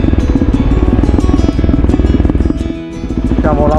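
A motorcycle ridden along a Sardinian coastal road, its engine throbbing loud and close with a fast regular pulse, briefly dipping as the rider eases off, then picking up again.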